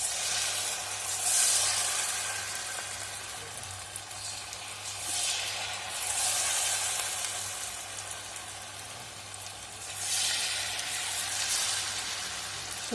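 Hot oil bubbling in a kadai, ready for frying maida bonda, gives off a continuous soft sizzle and hiss that swells and fades in gentle waves, fairly quiet and close.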